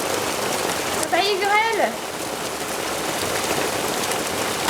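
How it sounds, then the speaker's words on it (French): Dense, steady pattering of hail drumming on surfaces, with a brief soft voice-like tone early on. "Oh bah là c'est le pompon, c'est carrément de la grêle"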